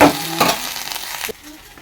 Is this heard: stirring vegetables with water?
yes